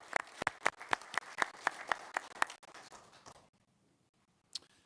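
An audience at a legislative public hearing gives a short round of applause, about a dozen sharp, evenly spaced claps that are moderately close, thinning out and fading to near silence, followed by one last isolated clap.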